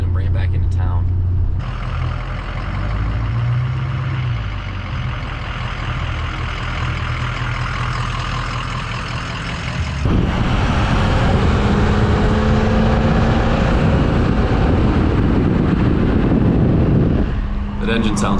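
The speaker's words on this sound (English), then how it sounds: "That engine sounds really good." A truck engine on a snow-plowing run rumbles steadily and loudly inside the cab for the whole stretch, swelling stronger partway through, with road noise mixed in and talk over it.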